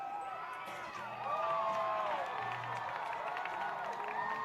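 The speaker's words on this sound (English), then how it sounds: "everybody cheering" Crowd cheering from a video playing back, a broad wash of many voices shouting and whooping, somewhat distant and thin, with a louder swell after the first second and sustained to the end.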